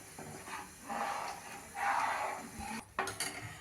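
Manchow soup thickened with cornflour slurry stirred in a pot, a spoon swishing and clinking against the metal in a few soft, uneven passes, close and quiet, with a brief gap near the end.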